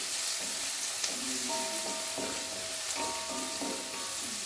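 Onions fry with salt in a hot pan, giving a dense, steady sizzle and hiss throughout, broken by rhythmic stirring scrapes every half second or so, close and even in level, with no speech.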